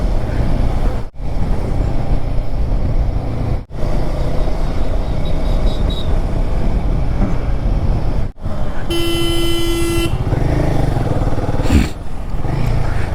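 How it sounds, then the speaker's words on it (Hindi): Busy road traffic in Aligarh roars steadily up close, motorcycle and car engines blending into a loud drone, with a sustained horn blast near the end and a few shorter toots. "अलीगढ़ का ट्रैफिक, माय गुडनेस,"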